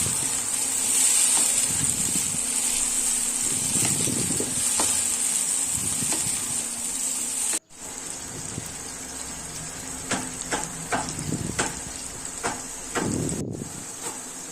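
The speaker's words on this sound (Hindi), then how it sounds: "टमाटर को प्याज में अच्छी तरह मिक्स कर लें।" Chopped tomatoes stirred into onions frying in a pan for karela sabzi, with a steady loud sizzle and intermittent scraping stirs, briefly interrupted before the frying hiss resumes.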